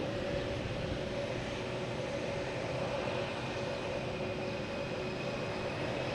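A one-year-old Delta Airbus A321neo arriving from Minneapolis at Logan Airport makes a steady jet roar with a thin whine above it, loud and unchanging throughout with no voices.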